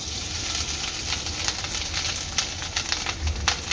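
Grated coconut sizzles steadily as it is sautéed in ghee for a sweet coconut rice dish, a continuous close frying hiss with soft stirring scrapes and no voices.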